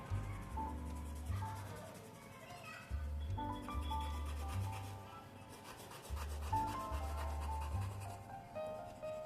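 Dark brown colour pencil shading on paper, a soft continuous scratchy rubbing in repeated back-and-forth strokes, close and quiet, with faint music underneath.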